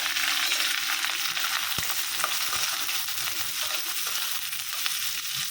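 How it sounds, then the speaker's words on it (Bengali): Onions frying in hot oil for a dried fish recipe, a steady, fairly quiet sizzle running throughout with occasional stirring scrapes and no voices. "তেলটা কিন্তু আমার গরম হয়ে গেছে, এই পর্যায়ে দিয়ে দেবো পেঁয়াজ"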